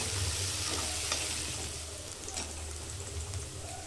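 Finely chopped onion sizzles and fries steadily in a hot garlic tempering, with occasional stirring scrapes over a continuous crackling hiss; no talking.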